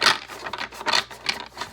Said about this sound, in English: Do like a quick shuffle here for you guys.